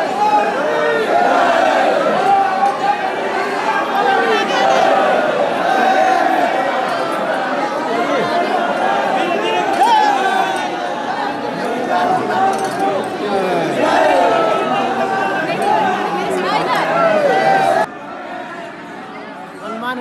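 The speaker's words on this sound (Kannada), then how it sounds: "ಇಲ್ಲೂ ಹನುಮಾನ್ ಗರಿಗೆ ಹೋಗಬೇಕಂದ್ರೆ ಅಷ್ಟೇ ಕ್ರೌಡ್ ಆಗಿದೆ" A large crowd of pilgrims packs the steps at Hanuman Garhi temple in Ayodhya, a dense constant murmur of many voices with occasional shouts, close and loud, dropping away abruptly near the end.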